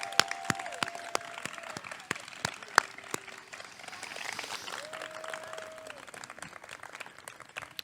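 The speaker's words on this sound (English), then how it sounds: "let's finish with one big round of applause for all of our award winners" Scattered applause at a humanities spring awards ceremony honoring the award winners: fairly quiet, sparse claps with a few sharper ones, over a low room background with faint sustained tones.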